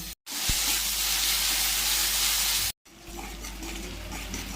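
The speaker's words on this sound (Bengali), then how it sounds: "পেঁয়াজটা লাল করে ভাজা হয়ে গেছে, এরপরে আদা রসুনটা দিয়ে ভেজে নেব।" Onions with ginger and garlic frying in oil in a wok, a loud dense hiss and sizzle held close up, cut by two brief silent gaps, then continuing slightly quieter with faint clinks of stirring.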